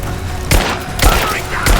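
Gunfire in the video game Rise of the Tomb Raider, with a few loud, close bursts of shots in rapid succession over dense combat noise.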